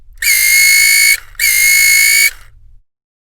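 Two loud, harsh electronic buzzing bursts from a vintage 1970s Kenner Star Wars Han Solo DL-44 toy laser pistol, each about a second long, with a short gap between them.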